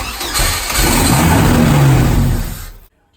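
Car engine starting after a sputtering crank and catching into a loud, close roar with a brief rev before it cuts off abruptly.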